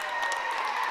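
Steady applause and cheering from Shoshoni and Thermopolis fans in a middle school basketball gym as a player heads to the bench. The dense clapping fills the room, loud and continuous, with no distinct voices over it.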